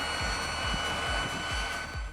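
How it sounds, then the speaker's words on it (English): The SubsonX, a small single-seat jet plane with a mini turbine engine, gives a steady, loud turbine roar with a rapid repeating pulse underneath, heard close and alone. "the moment you hear its mini turbine roar"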